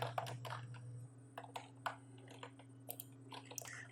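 Quiet keystrokes on a computer keyboard while entering data into an Excel spreadsheet, a run of irregular light clicks in short bursts over a low steady hum, close and alone with no talk.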